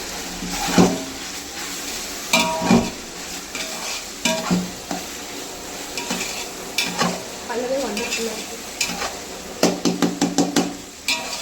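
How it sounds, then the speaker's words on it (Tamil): Tomatoes sautéing in a pan for biryani, with steady frying sizzle and repeated spoon stirring and scraping knocks against the pan, close and clear, no talking. "தக்காளி போட்டு தக்காளி நல்லா வதங்கட்டும்"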